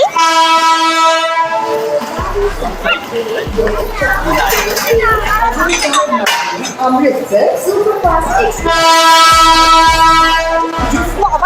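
A train rumbles into New Delhi railway station with loud, sustained horn blasts at the start and end, wheels clattering steadily in between as people talk nearby.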